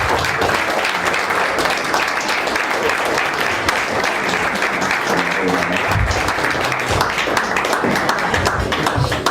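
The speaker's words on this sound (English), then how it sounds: "I'd like to give a round of applause" A room full of people at a dinner event applauds steadily, dense clapping at an even level throughout, with a faint murmur of voices underneath.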